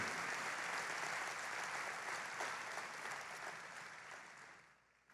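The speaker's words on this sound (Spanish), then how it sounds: "creo que Él merece un fuerte aplauso el día de hoy" A church congregation claps in sustained, even applause that fills the room and then slowly fades out at the end.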